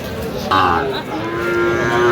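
A single loud, close moo from cattle at a cattle market, where Sahiwal bull calves are being bought, with a bovine call rising out of busy background noise.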